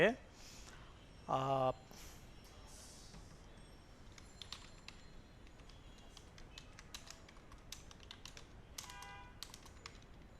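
Code being typed on a computer keyboard during a web design class, heard as scattered soft key clicks and taps in a quiet room after a brief burst of speech.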